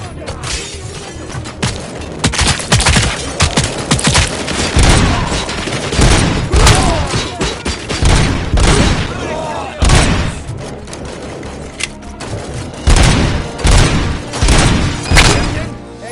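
Gunfire in the video game RoboCop Rogue City: dense, loud bursts of automatic shots, booms and impacts rattle almost continuously, with voices shouting over the combat.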